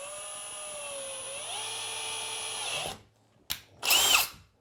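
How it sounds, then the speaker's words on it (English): A power drill whines loudly and steadily, slowing in pitch, then stops; two short bursts of drilling follow after a brief pause. "I'm gonna pull these doors out like this and drill just through the flooring."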